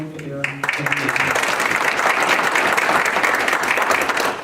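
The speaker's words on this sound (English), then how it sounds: "So I want a round of applause thanking them for their dedication." A meeting audience, the Board of Trustees of a university park, breaks into steady applause after a few seconds of low hum, the clapping dense and sustained at even loudness to the end.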